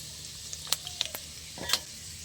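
Crispy potato snack with white sesame seeds being stirred in a pan: light sizzling under a handful of sharp scraping and clinking utensil strokes, close and moderately quiet.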